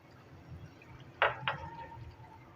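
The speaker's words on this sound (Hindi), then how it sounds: "पानी शामिल करेंगे," Water poured into a pot of kofta curry simmering in spiced masala, two short close splashes followed by a faint trickle over a low bubbling background.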